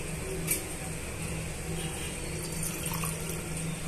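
Water is poured from a glass into a cooking pan while making semiya kesar, a continuous splashing trickle that runs steadily and close by, with no talk over it.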